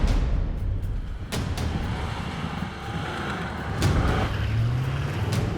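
A Group B Audi Quattro rally car drives uphill, its engine a loud, steady, close roar with rising pitch and a few sharp transient knocks, and no talking.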